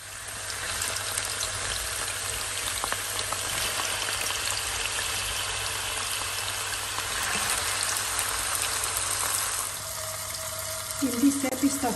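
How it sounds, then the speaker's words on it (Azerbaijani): Marinated meat for çökərtmə kebab fries in hot oil with a loud, continuous, close sizzle, and a brief clatter of utensils comes near the end. "İndi isə bir saatdan artıq saxladığımız əti yağda qızardırıq."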